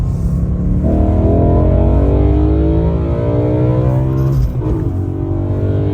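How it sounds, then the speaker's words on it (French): Car accelerating hard from inside the cabin, a loud engine drone climbing steadily in pitch, then a quick gear shift near four and a half seconds before it climbs again. "comment tu passes les vitesses frère, on dirait une boîte DSG"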